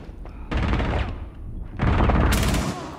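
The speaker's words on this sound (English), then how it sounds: "Popping flashbang!" Loud explosive blasts from a flashbang grenade in the Rainbow Six Siege shooter game, two heavy booming bursts about a second apart with a sharp bright crack, close and mostly alone.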